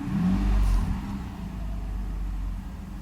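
A Mercedes 600SL engine runs steadily during an ASR throttle test, with a brief swell in revs early on before it settles back to an even, fairly loud idle hum.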